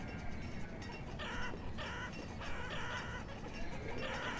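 Chickens clucking in the village-building game Banished, a steady layer of fowl calls with bursts of clucks repeating over a dense, continuous farm ambience at moderate level.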